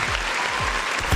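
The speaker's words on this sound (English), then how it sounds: "You want to give a round of applause, man, for the rookie, Mr. Cooper Flagg" A short burst of broadband applause for the rookie Cooper Flagg, heard as a steady clapping wash that swells briefly at the end.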